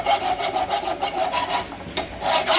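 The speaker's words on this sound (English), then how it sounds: "Quick clean up with a rasp to get any high spots out." A rasp files forged steel blacksmith tongs in quick repeated strokes, a close, scratchy rhythmic filing with no talking.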